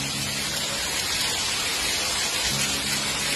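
Dense, hissing patter of hail pelting down hard and steady during a hailstorm in Brazil, hammering surfaces, with no voices.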